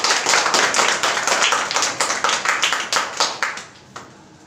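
A church congregation claps in a steady, fast rhythm, loud and close, with the beat slowing and thinning out to a few final claps near the end.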